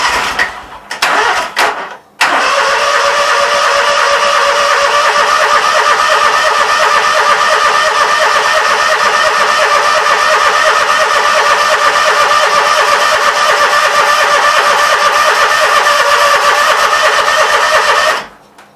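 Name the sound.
Briggs & Stratton Vanguard engine starting up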